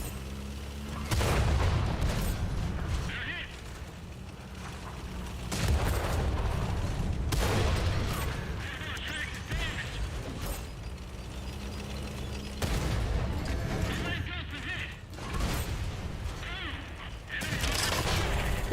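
Heavy tank cannon blasts in a World of Tanks console battle, several deep booms spaced a few seconds apart, each followed by a rumbling tail over a constant engine drone, with someone talking between shots.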